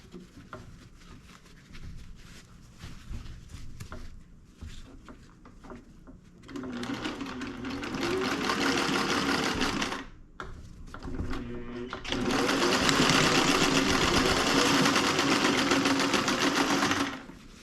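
A sewing machine stitches windlace around rope for a 1957 Chevy interior in two long bursts of fast, steady rattling, broken by short pauses and quieter handling noises.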